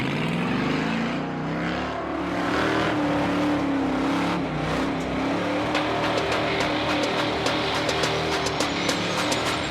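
Steady road noise from a car driving on the highway out of Ogden, Utah, a continuous engine and tire hum with a droning tone, close and constant with no talking.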